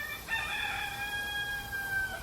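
A rooster crows once as a sound effect, a loud, clear cock-a-doodle-doo that rises and holds for about two seconds, alone with no talk.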